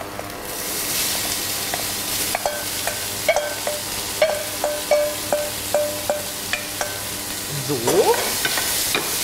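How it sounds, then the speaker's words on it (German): Carrots and onions sizzle in a hot pan under a constant frying hiss, with regular scraping stirs about every half second; a voice speaks briefly near the end. "ich schwitze mir die Möhren und die Zwiebeln ein wenig an"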